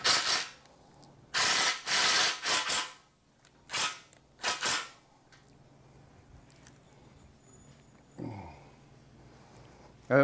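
Screws being driven through horizontal aluminium screen door extrusions into the screw bosses of the vertical extrusion, heard as several short bursts of driver whir and grinding in a quiet room, followed by a faint mechanical rattle.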